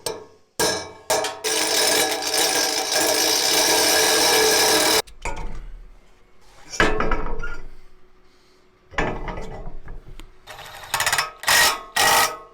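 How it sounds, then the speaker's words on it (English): A power drill boring out a hole in a trailer, with a loud continuous grinding drill run for several seconds, then short bursts of drilling and handling noises nearby. "we got to drill out the hole a little bit"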